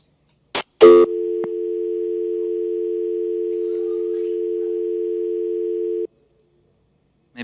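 A telephone dial tone sounds over a speakerphone, a steady, loud, unbroken tone lasting about five seconds after a click of the button, then cutting off to silence.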